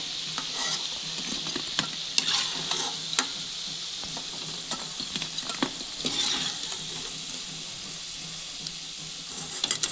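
Vegetable pakoras for veg Manchurian deep frying in a wok of hot oil, a steady bright sizzle with scattered pops and occasional scraping stir clicks, close and continuous with no talk.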